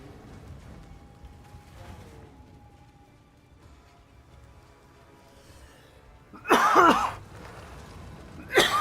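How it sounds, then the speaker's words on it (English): A man playing a game coughs and clears his throat, with two short, harsh bursts near the end after a stretch of quiet game background. "Got something stuck in my throat right now. If I keep coughing, I'll mute my mic for a minute."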